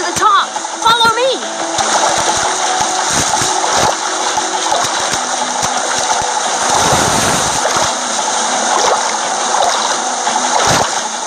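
Water wave splashing and rushing in the video game Minecraft: Story Mode, a steady surging wash of spray heard under overlapping game dialogue and music.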